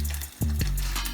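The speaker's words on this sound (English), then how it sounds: "Anyways, so it's frying." Korean-style chicken sizzles and crackles in hot oil, a short close burst of frying with a couple of sharper pops.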